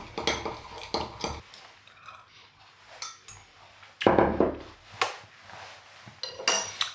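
A spoon clatters and scrapes around a bowl while Dijon mustard, honey and dill are mixed into a sauce, with quick bursts of clinking strokes and short pauses between them.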